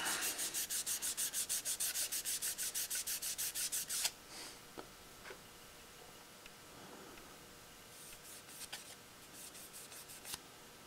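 Dry sanding of primer with a 1000 grit Abralon sponge, a rapid run of even back-and-forth rubbing strokes for about four seconds, close and loud, then a few scattered light scuffs and taps.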